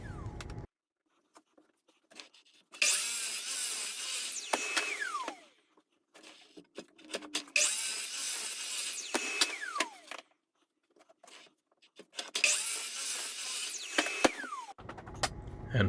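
Power saw cutting through a wooden board in three separate passes, each a loud buzzing whine with a pitch dropping as the blade spins down, separated by near-silent pauses.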